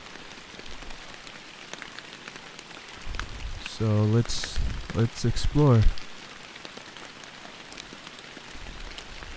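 Steady rain patters onto a lake around a rowed kayak in the Fishing Planet fishing game, a soft continuous hiss running throughout while someone speaks briefly in the middle.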